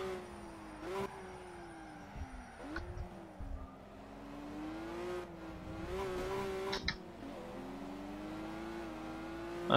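BMW 1M racing in Project Cars, its engine droning and rising and falling in pitch through gear changes, moderately loud with brief tire noises scattered through.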